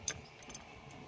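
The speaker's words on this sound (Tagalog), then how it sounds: "Try nating tanggalin yung susi." Ignition key pulled from the switch of a truck that will not crank, giving a few faint metallic jingles and clicks in a quiet space.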